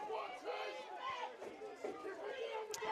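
Home crowd at Holy Trinity cheering on defense during a varsity high school football game against St. John the Baptist, a distant, fairly faint roar of many voices, shouting and chatter, swelling and fading.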